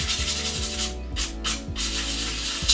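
Chalk-painted furniture being distressed with heavy-grit sandpaper, a close, steady scratchy rasp repeated in short back-and-forth strokes, with no talking.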